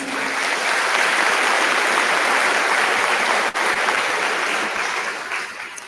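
A high school graduation audience applauding in a large hall, dense and sustained clapping that holds steady and then eases slightly near the end.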